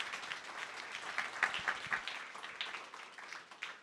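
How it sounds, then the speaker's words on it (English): Audience at a startup pitch event applauding the presenters, a moderate spatter of individual claps with uneven rhythm and slight peaks, fairly quiet overall and without voices on top. "Let's have a round of applause for all 4 of our presidents."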